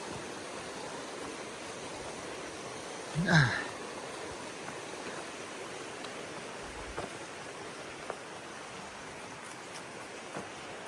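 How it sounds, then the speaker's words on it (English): A river flows near a mountain trail as a faint, steady wash of moving water, with a brief louder bump of nearby movement early on and no talking. "There's the river I was talking about."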